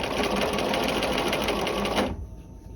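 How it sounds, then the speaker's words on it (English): Sewing machine stitching a peplum sleeve cuff, running steadily and loudly for about two seconds before stopping abruptly, leaving a quiet tail. "Back tack at point A, and we're going to sew"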